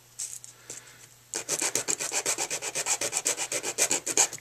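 Close, rhythmic back-and-forth sanding strokes on a wooden pistol grip, a rapid scratchy rasp repeating steadily after a few light rubs, with no voices.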